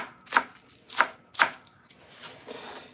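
A knife chops green onions on a board in three crisp, evenly spaced strikes, close and clear, followed by softer scraping and handling sounds.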